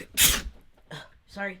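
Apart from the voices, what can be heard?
sneeze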